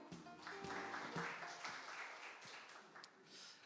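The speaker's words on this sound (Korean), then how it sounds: "힘찬 박수 부탁드릴게요." Applause from a conference audience welcoming a startup pitch presenter at a Daegu startup forum, a steady wash of clapping lasting a few seconds at moderate, somewhat distant level.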